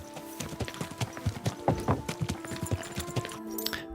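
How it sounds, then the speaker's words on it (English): Horse hooves clip-clop steadily in Kingdom Come Deliverance 2, a close, even rhythm of hoofbeats continuing throughout. "Oh yeah, by the way, I got a new horse, Phantom."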